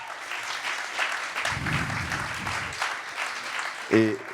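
Brief applause from an audience at an awards ceremony, a short burst of clapping mid-clip under continuous talk, ending with a louder vocal exclamation.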